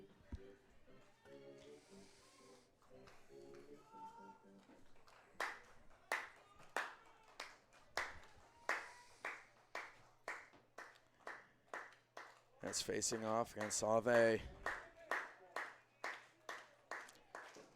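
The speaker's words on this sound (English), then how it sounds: "The crowd clapping up a storm." A baseball crowd claps in steady rhythmic bursts during a late-inning at-bat, rising to a dense flurry near the end, with a play-by-play announcer talking over the start.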